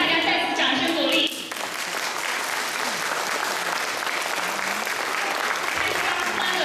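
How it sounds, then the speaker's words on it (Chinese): After a brief voice at the start, an audience breaks into sustained, even applause for a children's dance performance, the clapping settling into a steady wash that continues to the end. "请大家再次掌声鼓励"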